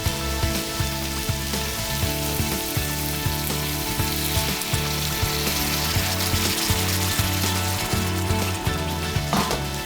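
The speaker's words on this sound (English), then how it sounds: "Let's pour in some boiling water." Steady loud sizzling and crackling as boiling water is poured into a hot pan of onions, with occasional clinks and scrapes of stirring; no voices.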